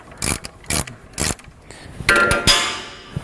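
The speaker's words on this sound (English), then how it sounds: "get your spanner and socket on, then take that nut off" A spanner and socket undo the steering damper nut on a Range Rover P38, giving three rhythmic ratcheting bursts, then a scrape and metallic clunks with a ringing tail, close up and without speech.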